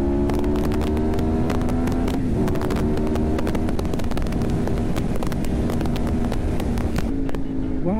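A Yamaha MT-10 motorcycle rides along a curvy road, its engine droning loudly and steadily with rising and shifting pitch, wind buffeting the microphone throughout.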